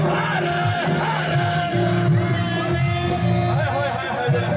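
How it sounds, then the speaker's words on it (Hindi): A large crowd shouts a cheer for Bhole Baba (Shiva), a loud, sustained mass of yelling and whooping voices with tonal sound woven through it. "एक बार भोले बाबा का जयकारा लगा दो जरा।"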